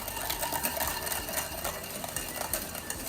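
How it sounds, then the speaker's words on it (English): Steady whisking of hot, thick pastry cream in a heavy, very thick pot on a stove that has been switched off, a continuous rapid scraping rattle close up with no talking. "I am going to keep whisking it"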